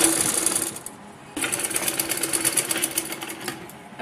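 Sewing machine stitching a seam on salwar cloth, a rapid close chattering run that stops briefly, then resumes in a steady pulsing rhythm without any talk.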